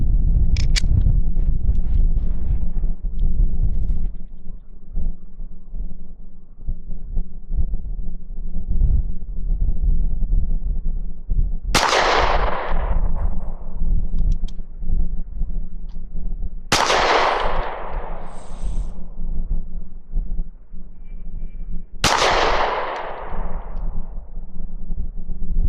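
Three sharp, loud Smith & Wesson Shield 2.0 pistol shots fired at a target, spaced several seconds apart, each followed by a short echoing decay over a steady low background noise.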